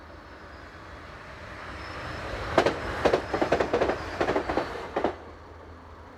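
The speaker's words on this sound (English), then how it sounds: "this level crossing shot shows 755326, heading the 958 service from Ipswich" Passenger unit 755326 on the service from Ipswich passes a level crossing just east of Levington, a rising rumble building to a rapid run of loud clickety-clack wheel beats over about two seconds before fading.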